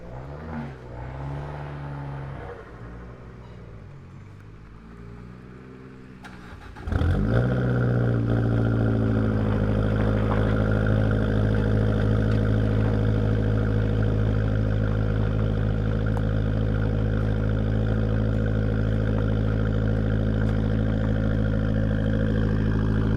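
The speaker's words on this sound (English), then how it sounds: "now we got a cold start of a Abarth 500 with the Elgato exhaust" An Abarth 500 with an aftermarket Elgato exhaust cranks and fires up abruptly on a cold start, then settles into a loud, steady, rumbling idle that continues unchanged.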